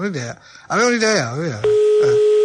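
A telephone dial tone, a steady sustained beep that follows a man's sung or drawn-out voice in an Italian broadcast, loud and close.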